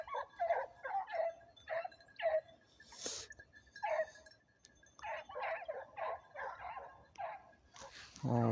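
Several dogs bark in repeated bursts at a moderate distance outdoors, with short pauses between volleys and a brief voice near the end.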